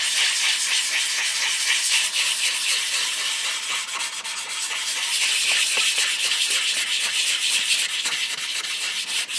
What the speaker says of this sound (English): And so that's why I'm rubbing my hand over the work.